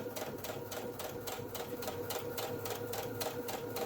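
A sewing machine stitches steadily along a fabric edge, its needle tapping in a fast, even rhythm close by and fairly quiet, with no voices over it.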